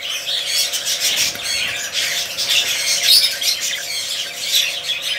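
Several budgerigars, violet spangle and crested birds among them, squawk and chatter in a cage, a dense, continuous run of shrill calls close to the listener with no voices.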